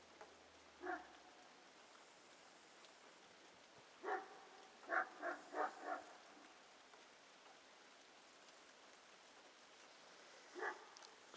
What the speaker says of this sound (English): that's the only dog that barks in this area